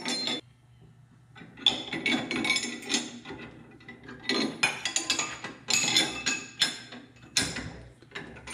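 Metallic clinks, taps and scraping from a bearing puller being tightened on the rear wheel hub shaft of a 1966 C2 Corvette, irregular close bursts of ringing metal contact repeating through the clip.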